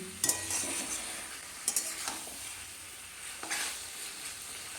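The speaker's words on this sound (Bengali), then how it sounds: "চিনিটাকেও সুন্দরভাবে একটু মিশিয়ে দিলাম" Sugar stirred into ash gourd greens chochchori frying in a pan: a continuous soft sizzle with a few sharp spatula scrapes and clinks, close and alone without talk.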